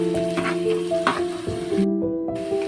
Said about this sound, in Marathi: पनीर मसाला बनवण्यासाठी 2 मापटे तेल घेतलेले आहे, थोडेसे जिरे टाकलेले आहेत आणि 2 कांदे. आता हे आपण लालसर भाजून घेऊया 1-2 मिनिटं.